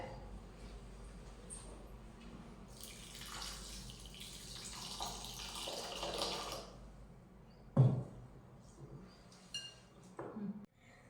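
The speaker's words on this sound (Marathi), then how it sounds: "तर आता हा तांदूळ आपण दोन ते तीन वेळा पाण्याने धुवून घेऊयात" Basmati rice washed in water in a bowl, with soft swishing and sloshing, quiet clinks of grains and the bowl, and a sharper knock near the end, all fairly faint.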